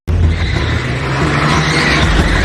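A car pulls away with its tires squealing loudly, a close, sustained screech over engine roar that holds steady for a couple of seconds before easing slightly.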